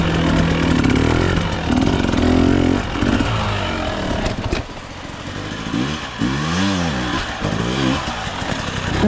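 An enduro dirt bike on a rough, rooty extreme trail revs and bogs unevenly, its engine loud and close, rising and falling in pitch as it claws over obstacles.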